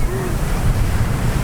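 Surf rolls and crashes on a windy tropical beach at Puerto Plata, a dense low roar of breaking waves mixed with gusty wind buffeting the microphone, loud and continuous.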